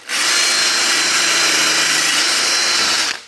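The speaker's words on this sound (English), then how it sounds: "I've got a flat wire wheel on a drill here" A flat wire wheel spun by a drill grinds paint off bare car metal on a Ford Fairlane, one loud continuous harsh rasping whir lasting about three seconds before cutting off, close and alone.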